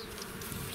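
Dense, steady buzzing of many honey bees close by as they are shaken from one hive into another, a continuous insect drone with no voices.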